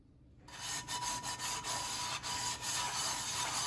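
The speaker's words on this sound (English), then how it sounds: "So I've done a few rounds of using the barkeeper's friend and rubbing." A HexClad pan is scrubbed with Bar Keepers Friend powder, making close, steady, abrasive rubbing strokes in a rhythmic back-and-forth that starts after a brief quiet moment.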